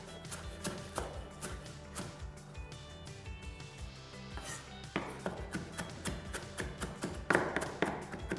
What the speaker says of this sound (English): So we're just going to roughly chop some parsley for the kifla potatoes.